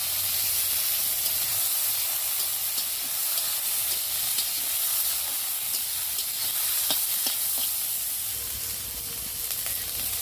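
Drumstick paste (ground moringa) hitting hot oil in a pan with chopped onion, giving a steady broadband sizzle and hiss that runs alone and fairly close for the whole span.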